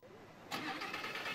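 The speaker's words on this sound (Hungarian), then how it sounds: "Ez egy Lamborghini Huracán a Rivieren." A 2014 Lamborghini Huracán sports car with a 610-horsepower V10 engine, on the M7 motorway in Hungary, roars up abruptly after a quiet start and holds a steady, loud drone; faint talk sits underneath.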